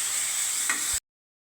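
Drumsticks (moringa pods) sautéing in hot oil, a steady bright sizzle with a light stirring scrape, heard close and alone before cutting off abruptly.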